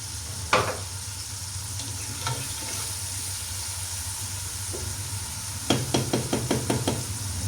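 Onions sautéing with salt in a pan, giving a steady close sizzle with occasional spatula knocks, then a quick run of rhythmic tapping and scraping near the end.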